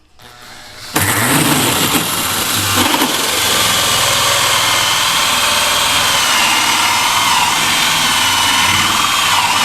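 A power tool cuts through a metal Z profile while a insulated garden studio is assembled, starting abruptly after a second and then running as a loud, steady, continuous whine that holds to the end without pause.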